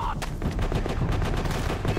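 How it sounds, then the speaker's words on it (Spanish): Rapid machine gun fire rattles in a burst during a firefight in the video game Call of Duty: World at War, loud and dense, with faint voices underneath. "¡Ametralladora enemiga!"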